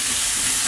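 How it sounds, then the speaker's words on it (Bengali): Onions frying in a pan for a Bengali katla fish curry with taro, a brief, dense, steady sizzle heard close up with no voices. "পেঁয়াজটা প্রায় ভাজা হয়ে এসেছে।"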